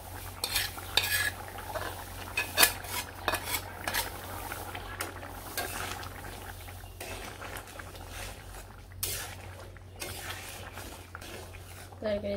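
Stirring and scraping in a pot as onions go into a potato curry after cumin powder, with clinks of a spoon against metal and a faint sizzle running throughout, close and moderately loud.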